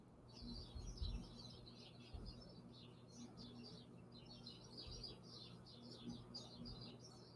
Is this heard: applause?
no